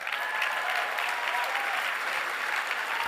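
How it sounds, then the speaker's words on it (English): An audience applauds at a live seminar event, a dense, even wash of clapping from many hands that holds steady and moderately distant throughout, with no distinct voices rising above it. "Give him a round of applause"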